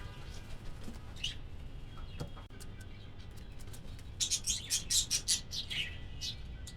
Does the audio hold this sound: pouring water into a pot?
no